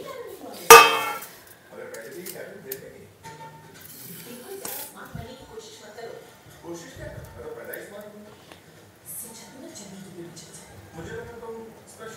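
Steamed dudhi (bottle gourd) muthiya dumplings are tipped out onto a metal plate, a sharp metallic clang near the start followed by scattered softer clinks and scrapes of utensils while someone talks throughout.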